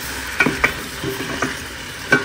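Chicken frying in a pot for creamy chicken soup, stirred with a spoon: a steady low sizzle under several sharp scraping and clinking strokes against the pan, close and alone with no voices.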